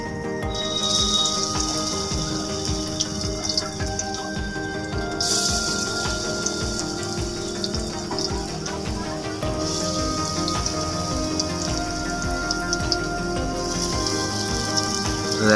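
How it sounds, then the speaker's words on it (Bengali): Banana flower fritters (mochar chop) dropped one by one into very hot oil, a continuous loud crackling sizzle that rises sharply a few times as pieces go in, with no voices. "তেলটা আমার তো খুব গরম হয়ে গেছে। এবার একটা একটা করে ছেড়ে দেবো চপগুলো।"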